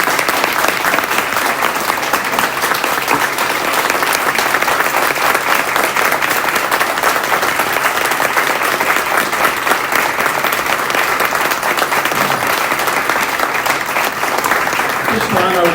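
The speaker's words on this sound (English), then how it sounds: "Please join me in offering an enormous round of applause for Mrs. Catherine Flanagan" Sustained audience applause fills a board of education meeting room, dense and steady clapping from many hands throughout, with faint voices mixed underneath.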